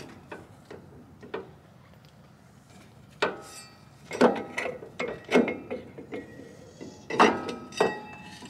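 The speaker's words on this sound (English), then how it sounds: "So I'm undoing my shock tower bolts so I can take the shock tower" Bolts on the shock towers of a Nissan GU Patrol are undone during a suspension upgrade, with sparse metallic ratchet clicks and taps at first, then clustered bursts of ratcheting and clanks, moderately close and without speech.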